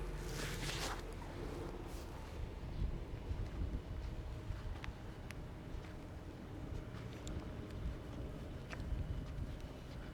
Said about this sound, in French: là il y a du vent comme tout à l'heure